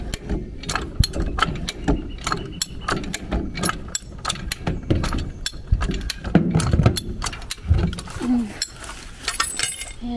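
Ratcheting clicks and metallic clinks repeat busily as an old socket is used to spin out deep-set bolts, close and steady throughout, with rattling mechanical movement and no clear talk.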